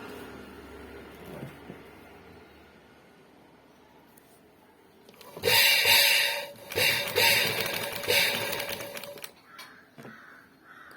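Sewing machine stitching along a folded blouse hem, a short quiet stretch followed by several loud bursts of rapid mechanical running with brief pauses between them, close by and with no talking.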